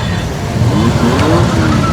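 A children's electric ride-on toy car plays its engine sound effect, a loud, steady revving drone that swells slightly without a break, close by in a shop.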